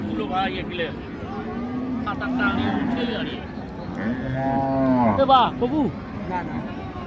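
Cattle moo in long, low calls amid a busy rural cattle market in Bangladesh, with people talking nearby and a second drawn-out moo rising near the end.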